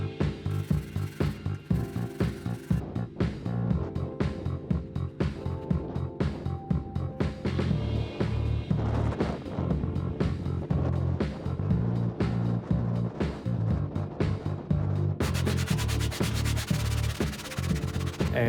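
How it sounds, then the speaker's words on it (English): Continuous rhythmic scraping of sandpaper, glued to a beam, rubbing against the sides of a wooden guitar fretboard, steady back-and-forth strokes filling the whole stretch, close and fairly loud. "To sand the sides of the fretboard, I did the masking tape trick and glued on some sanding paper"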